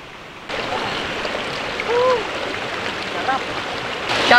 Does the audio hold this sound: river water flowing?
yes